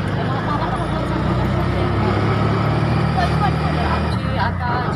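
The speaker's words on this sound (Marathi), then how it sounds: "आमची आता जर्नी चालू आहे आमची ऑटो रिक्षातून परत चालले" Auto rickshaw ride on the road to Ambernath, with a steady close engine drone and road rumble running without a break throughout.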